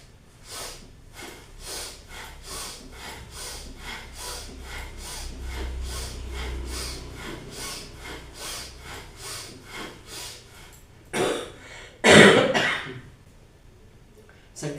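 Bhastrika pranayama breathing exercise: a long run of rhythmic, forceful nasal breaths at a steady quick pace, followed by a few louder, harsher exhalations near the end, with no speech.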